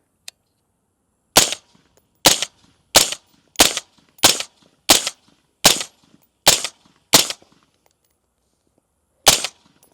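Suppressed 10.5-inch ADM AR-15 rifle fired outdoors at 25 yards: a single crack followed by a steady string of sharp, loud reports about a second apart, with a final shot after a short pause.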